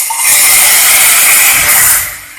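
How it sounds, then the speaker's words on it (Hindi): Hot oil tadka poured over mash chana daal gives a steady, loud, close hissing sizzle that holds for about two seconds and then eases off. "तो चलें अपने इसमें दाल में तड़का लगाते हैं।"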